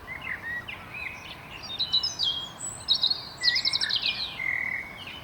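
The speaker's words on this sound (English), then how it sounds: "It's just me and the birds." Several birds chirp and trill in short bursts on a damp, murky morning, small bright phrases overlapping at moderate distance over a soft, steady outdoor hiss.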